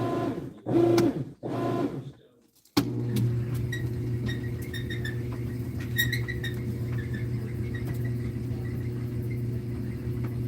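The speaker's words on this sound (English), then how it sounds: "The dryer is so squeaky, so I apologize for any loud squeaks." A steady droning tumble with a low hum and scattered high squeaks and ticks throughout, after a brief burst of something at the start.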